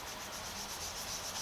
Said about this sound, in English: it's sanding pretty smooth